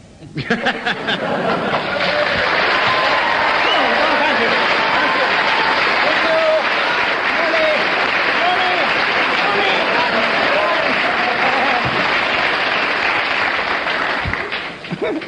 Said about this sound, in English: I'm going to ask the audience to show approval by their applause